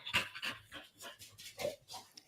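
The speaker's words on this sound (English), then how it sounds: "She likes panting." A dog pants in quick, rhythmic breaths, close and fairly quiet, with a faint whimpering edge to a few of the breaths and no voices.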